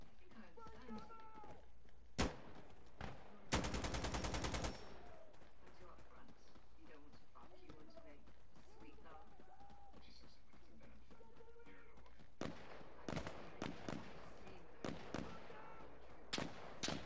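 Gunfire in the Insurgency: Sandstorm video game: a dense burst of rapid automatic fire lasting about a second, then scattered sharp shots toward the end, with a player talking over the game.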